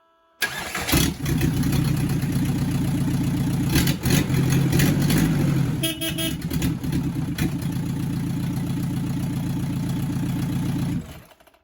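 A hard-starting car engine cranks and catches after several key turns, sputters briefly, then settles into a steady rumbling idle for several seconds, close by with no talking.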